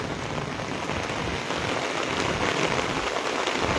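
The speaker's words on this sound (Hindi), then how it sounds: "जोरदार बारिश का जो दौर है वो जारी है" Heavy rain in Palampur pours down in a dense, continuous hiss, loud and steady from start to finish with no voices.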